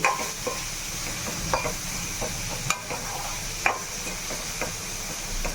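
A carrot fry with coriander and coriander powder being stirred in a pan, with a spatula scraping and tapping at irregular moments over a low steady sizzle, close and moderately loud, with no one speaking.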